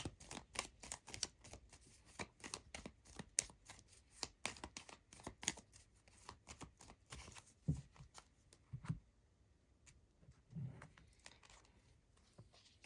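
Oracle cards from a Moon Magic deck being shuffled and drawn, a quick run of crisp riffling flicks and slaps that thin out into a few softer, separate card taps near the end, close and quiet with no talking.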